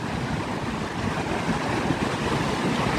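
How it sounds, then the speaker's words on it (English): Steady, full rushing water from an indoor fountain fills the space as a dense, unbroken wash, loud and close, with no voices. "It's kind of cool because you have like the rushing water with the fake water."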